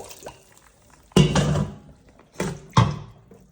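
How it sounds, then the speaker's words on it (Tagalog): Water drains off boiled lato seaweed in a kitchen, heard as three bursts of splashing and pouring, each with a sharp onset and then trailing off, with quiet trickling between them. "I-drain ko na itong water."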